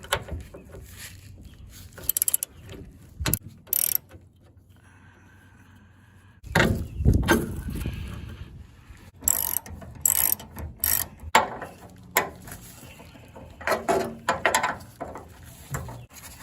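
A ratchet wrench works a 5/8 bolt and 11/16 nut off the front rear-suspension shackle of a 1964 MGB, giving close, intermittent bursts of clicking ratchet strokes with knocks and clanks between them.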